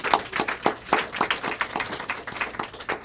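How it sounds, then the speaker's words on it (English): An audience at a talk claps in sustained applause, a dense, even patter of many hands at moderate volume, steady throughout without speech. "thank you for the applause, I like hearing it"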